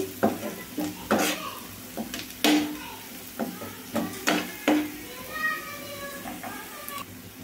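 A spoon stirs and scrapes through curry leaves sizzling in oil in a pan, with repeated clattering strokes over a steady fry, prepared for an egg masala curry, with a voice speaking intermittently.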